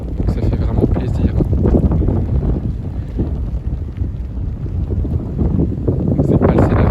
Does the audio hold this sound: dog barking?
no